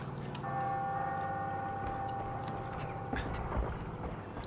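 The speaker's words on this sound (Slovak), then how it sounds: "A už počujeme zvony." Church bells ring out in a video game scene, their sustained tonal peals layered over a steady ambient background, with a few heavier knocks near the end.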